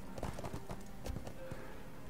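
Horse hooves clip-clop at a steady trot in the ArcheAge fantasy MMO, with regular sharp hoofbeats close up over a continuous game ambience.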